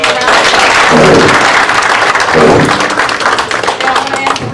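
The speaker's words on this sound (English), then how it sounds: "did everybody give me a round of applause?" A round of applause from an audience at a children's show, loud and full, a dense patter of many hands that stays steady with light voices and cheers mixed in throughout.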